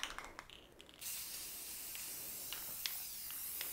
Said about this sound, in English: all I did is spray it